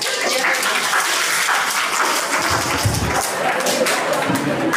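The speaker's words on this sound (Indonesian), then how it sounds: "Kalau udah kita tepuk tangan dulu." An audience claps hands together in a dense, steady round of applause that fills the whole stretch at an even level, with a few heavier thumps near the middle.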